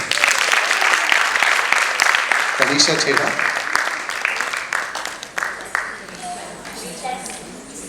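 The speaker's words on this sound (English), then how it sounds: "Clap for them" An audience claps for young dancers at a dance recital, dense applause filling the hall and slowly fading, with a voice announcing a name over it.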